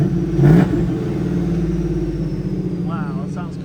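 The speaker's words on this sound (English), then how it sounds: "You can hear already that the car is nice and whistling now, and let's give it a few revs." A supercharged car with a ProCharger revs up close beside the exhaust, a steady engine drone with a brief louder blip and a faint whistle riding over it. The motor keeps idling loud throughout.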